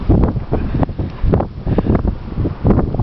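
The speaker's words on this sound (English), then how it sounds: "It's just so windy" Strong blizzard wind buffets the microphone outdoors in February snow, heavy low rumbling gusts surging and easing in quick waves, loud and close throughout.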